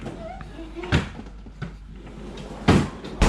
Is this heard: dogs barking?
no